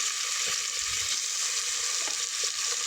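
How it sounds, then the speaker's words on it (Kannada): Tomato and onion sizzle and fry steadily in hot oil for a brinjal dish, a continuous close crackling hiss with light stirring underneath. "ಇಲ್ಲಿ ಟೊಮ್ಯಾಟೊ, ಈರುಳ್ಳಿ ಅದನ್ನೆಲ್ಲ ನಾನು ಇದೀ ಎಣ್ಣೆಯಲ್ಲಿ ಹಾಕಿ ಈಗ ಸ್ವಲ್ಪ ಫ್ರೈ ಮಾಡ್ತೇನೆ"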